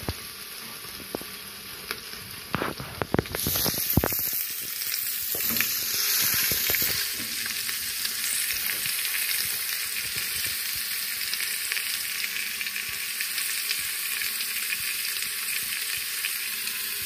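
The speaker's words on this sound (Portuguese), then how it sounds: "aqui já tá colocando a carninha. Que carne que é, amor? Costela. Costelinha. Colocou só um pouquinho de azeite ali." Pork ribs fry in a small amount of olive oil in a home kitchen, with a loud, continuous sizzle that swells after a few clattering knocks at the start and then holds steady.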